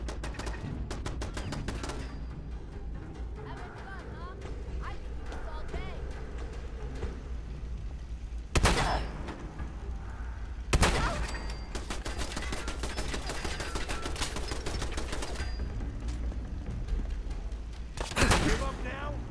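Rapid sustained gunfire from an automated turret in the Fallout 4 video game, loud and continuous with several heavier bangs standing out, while someone speaks over the shooting.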